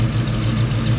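A vehicle engine idles steadily at close range, a low, even rumble with a faint vibration and no voices over it.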